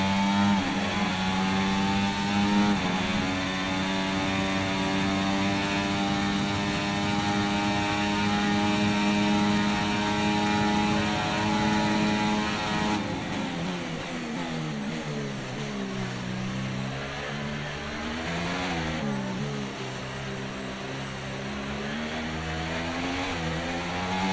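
An F1 24 Formula 1 race car drives in the rain at Miami International Autodrome, its engine giving a steady, loud droning hum that holds a constant pitch, then wavers and dips partway through, with no talk.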